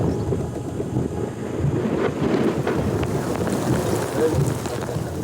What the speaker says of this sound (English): But this day, it rains in the Kalahari.